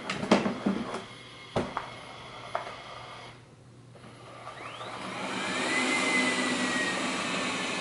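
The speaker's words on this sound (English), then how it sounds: "Start vacuuming." A household vacuum cleaner switches on after a few clicks and handling knocks, building into a steady, loud whirring roar with a high whine that continues to the end.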